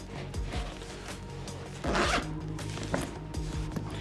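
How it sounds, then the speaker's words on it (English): A zipper on the carrying case of a DJI Mavic 3 Cine drone being pulled open, close and clear, with a series of short ratcheting rasps and one longer drawn pull midway. "In the back here, we have this zipper, which could be a pocket."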